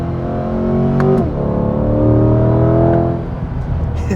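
Chevrolet C8 Corvette Stingray V8 engine revving through quick paddle-shifted gear changes, a loud, rising roar that dips sharply at each shift and then climbs again, heard from inside the car.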